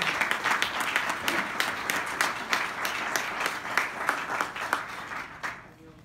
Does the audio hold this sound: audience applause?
yes